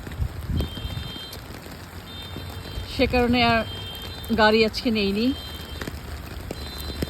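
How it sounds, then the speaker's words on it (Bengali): Soft, steady winter rain patters in the background in New York while a person speaks briefly in the middle. "এই কিন্তু আমি অনেকটাই ভিজে গেছি এই বৃষ্টিতে"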